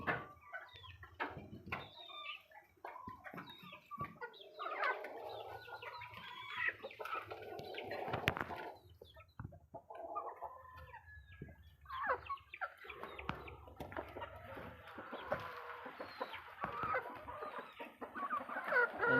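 A hen that has just laid an egg clucks repeatedly nearby among other chicken calls, a busy run of cackles and squawks that continues throughout.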